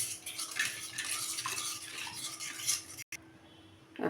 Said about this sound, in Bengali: দু তিন চামচ কাঁচা তেল মিশিয়ে দিয়ে দিলাম দিয়ে এখন ভালো করে মিশিয়ে নেব মশলাটা